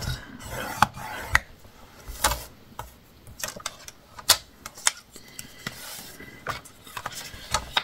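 Scissors cut paper for a scrapbook album, irregular crisp snips and rustling at close range, with no talk.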